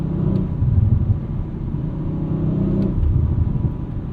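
Exhaust of a 2023 Audi RS5 Competition with a twin-turbo V6 on a morning commute, deep low rumble and burbling as the revs drop, close and continuous, a brief lift near the end.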